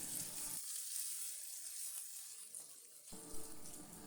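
Ginger slices frying in hot oil until crisp and golden, a steady hissing sizzle that goes quiet for a stretch before the bubbling returns, close and without speech.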